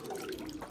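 Pigeon bath water is stirred after Royal Feather bath salt is added, giving a brief, steady watery swish and slosh heard alone at close range.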